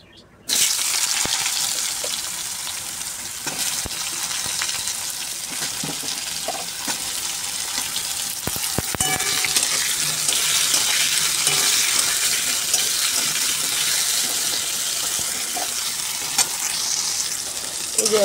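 Dried, powdered neem leaves sizzle in hot oil in a pan, a loud, steady crackling hiss that runs unbroken after an abrupt start, with occasional faint stirring clicks.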